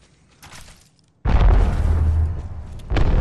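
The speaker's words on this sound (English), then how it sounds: "I'm gonna get close enough calling my airstrike." Airstrike explosions in the video game Apex Legends, a quiet lead-in and then a sudden heavy boom at close range that rumbles on as a sustained roar, with a second blast hitting right at the end.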